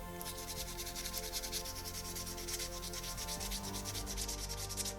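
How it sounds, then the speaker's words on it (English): Sanding a large 1/6th scale statue with 400 grit sandpaper, a fast rhythmic rasping of back-and-forth strokes, close and steady, with no voices. "I've moved on to the 400 grit sandpaper here"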